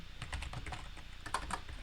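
Fast, steady typing on a computer keyboard, close and fairly quiet, with irregular clicks and a few sharper keystrokes.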